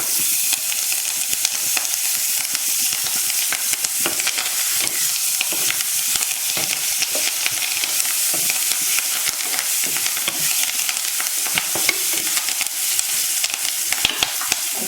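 Shallots, garlic and curry leaves frying in hot oil for a Chettinad brinjal curry, a loud continuous sizzle with crackling spatter and occasional stirring scrapes, steady throughout with no talking.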